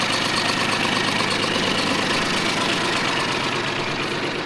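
A Japanese MT-200 mini tractor engine running steadily after a full overhaul, a close, loud, continuous rattling diesel chug with no pauses and no talk over it.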